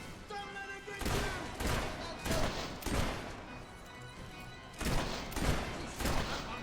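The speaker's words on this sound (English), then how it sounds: "He shot that one right between the eyes." Gunfire in the Fable 3 video game, sounding as several loud bursts of shots in clustered volleys with short gaps between them, with a few quieter thumps in the pauses.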